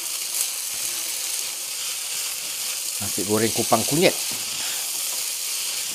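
Green beans stir-frying in mustard oil in a home kitchen, a steady soft sizzle throughout with brief louder stirring clatter near the middle while someone speaks over it.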